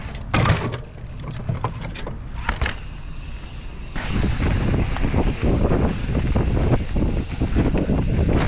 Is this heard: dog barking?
no